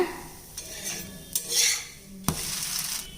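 Uttapam batter frying on a pan with podi sprinkled over it, a soft steady sizzle broken by a few sharp scrapes and clinks of a utensil against the pan, close by with no talk.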